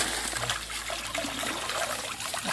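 Water trickles and flows along a forest stream bed in the dry season, a soft, continuous babbling close by with no voices.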